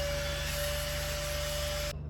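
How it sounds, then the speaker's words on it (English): A tiny handheld vacuum cleaner runs along the needle bed of a plastic knitting machine, giving a steady loud whine with a constant hum that cuts off abruptly at the end, no talking. "I'll just go along my needle bed and vacuum up"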